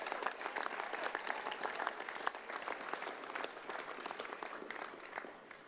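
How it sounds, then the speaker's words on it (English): A crowd at an election victory celebration for a newly elected 2nd Congressional District representative breaks into sustained, dense applause, steady and loud throughout with scattered cheers, fading slightly near the end. "big round of applause"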